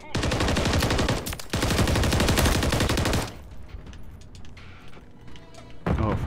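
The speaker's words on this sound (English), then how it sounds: "Oh, friendly was shooting me." Rapid automatic gunfire from a first-person shooter, a Hardpoint ranked match, rattles loud and close for about three seconds with a brief gap. It gives way to quieter game ambience, then a short final burst resumes.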